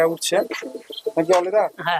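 Andhra and Giribaj pigeons at a pigeon sale in Murshidabad coo and call close by in short bursts, mixed with people talking.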